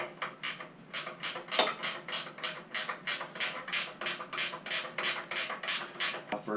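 A ratchet wrench loosens the 13 mm muffler support bolts on a 2018 Indian Scout Bobber motorcycle, giving a rapid series of close, evenly spaced clicking strokes throughout.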